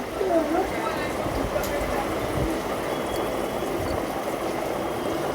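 A covered cooking pot of liquid comes to a rolling boil in a village kitchen, a continuous bubbling churn heard up close while a person talks over it.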